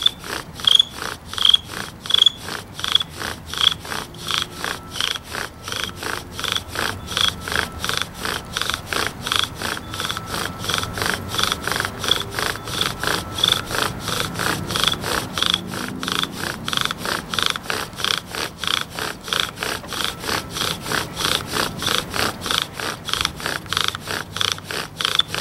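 A handmade redwood bow drill saws back and forth in a fast, even rhythm, its rasping friction strokes repeating for the whole stretch as primitive fire-by-friction smoulders, loud and close with no talking.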